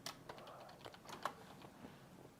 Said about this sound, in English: Chris is typing.